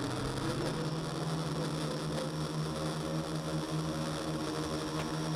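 A small multirotor drone on vibration-damping motor mounts flies with a continuous steady buzzing whine from its motors and propellers, holding an even, fairly loud level throughout with no talking.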